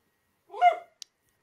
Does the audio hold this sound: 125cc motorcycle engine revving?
no